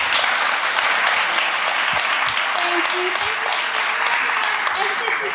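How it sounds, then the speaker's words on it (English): Loud, sustained applause from a luncheon audience for a panel of speakers, a close, dense roar of clapping with a few voices mixed in. "let's give a real round of applause for our panel."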